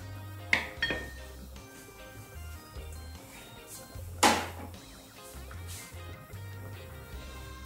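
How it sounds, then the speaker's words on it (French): A metal lid set onto a pot of simmering sausages, with a few sharp clinks and clanks, one louder strike midway, over a low kitchen hum. "Mettre le couvercle dessus."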